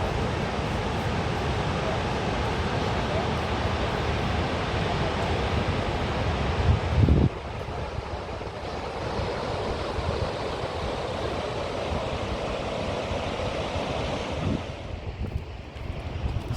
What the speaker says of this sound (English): This is where all the gallons of water come down through and they whirlpool around